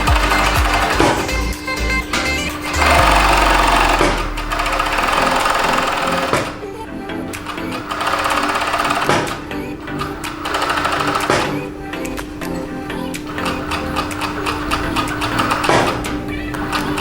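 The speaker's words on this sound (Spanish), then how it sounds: "acabo de hacer una modificación de mi máquina, es de 5 hilos, pero le quité la aguja para que quedara como de 3" Overlock serger converted from five-thread to three-thread running in bursts while sewing denim jeans, a fast whirring stitch hum with starts and stops and brief pauses between runs, close and loud.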